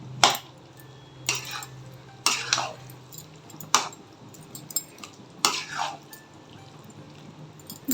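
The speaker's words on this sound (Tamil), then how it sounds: "நல்லா கலந்து விட்டுருவோம்" A spoon stirs a potato fry in a metal pan, clinking against it in repeated, evenly spaced scrapes and taps that stand out near and clear over a low background hum.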